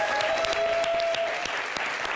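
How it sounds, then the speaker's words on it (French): A studio audience at a French TV show bursts into steady, dense applause, the clapping continuous and fairly loud for the whole stretch with no voices on top. "on va quand même applaudir pour ce chaleureux public"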